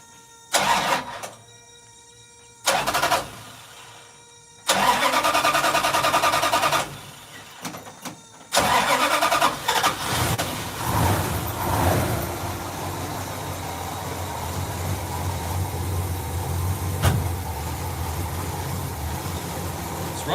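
Dodge engine after a fuel pump replacement, cranking in several short bursts with pauses between them, then catching and settling into a steady, rough idle that runs on close by.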